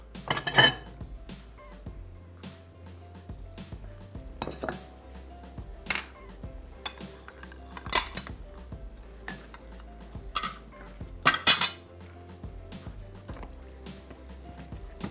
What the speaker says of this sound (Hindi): इसको मैं डिश आउट कर लूँ जनाब।